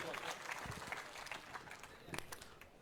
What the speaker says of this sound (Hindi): एक बार जोरदार तालियों के साथ अभिनंदन और स्वागत।